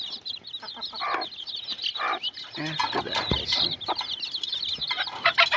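A brooding hen lifted off her eggs clucks and chirps close by with other chickens, busy and continuous, with some soft human voice mixed in beneath the calls.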